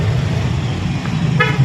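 Busy street traffic at a congested crossing, a steady engine rumble with a short car horn toot near the end, fairly loud and close.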